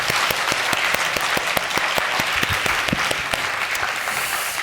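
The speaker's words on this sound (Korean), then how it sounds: "하나님께 영광의 박수를 한번 올려드렸으면 좋겠습니다" A church congregation claps together during a Sunday service, loud and close, with a steady dense rhythm of hand claps that thins slightly toward the end, and no voices over it.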